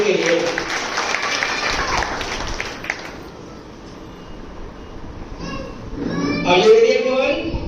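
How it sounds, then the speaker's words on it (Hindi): Dense applause from an audience honoring children at a school graduation day in Chapra rings out for about three seconds, then thins to a low murmur before children's voices and lively chatter rise near the end. "एक बार जोरदार तालियां बजनी चाहिए इन सभी के लिए।"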